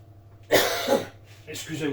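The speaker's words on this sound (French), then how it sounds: "j'ai envie de tousser avec le poivre" A person coughs once, sharp and close, from pepper while rubbing salt into a pork shank for curing, followed by a smaller throat-clearing sound.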